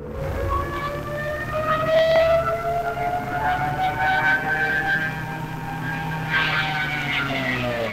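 A Junkers Ju-87 Stuka German dive bomber wails in a loud, sustained, siren-like howl that bends slowly in pitch over a steady engine roar.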